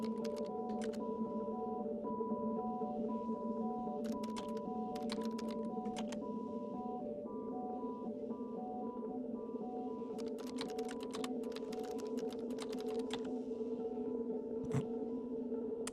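Keys are pressed in bursts of quick clicks on a keyboard in The Turing Test, sitting over a steady humming electronic drone with pauses between runs of typing.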